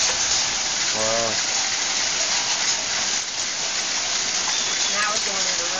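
Rain falls heavily after a May hailstorm in Raleigh, a steady loud hiss throughout, with voices talking over it.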